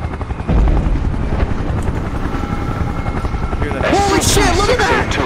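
A helicopter in the video game SCP:VR drones with a loud, continuous rotor chop close by, while a voice speaks over it near the end.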